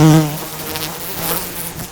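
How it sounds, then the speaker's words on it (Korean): Honeybees at a hive drone in a close, loud, continuous buzz, with a stronger hum at the start that eases into a steady whir. "경계를 하며 위협의 몸짓을 하는 꿀벌들."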